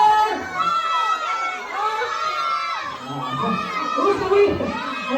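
A birthday party crowd of guests and children shouts and cheers continuously, a dense mix of high excited voices and chatter with a louder swell near the end.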